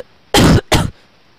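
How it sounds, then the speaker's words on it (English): Two sharp coughs in quick succession, close and loud, with a short gap between them and quiet before and after. "Oh dear, little cough coughs."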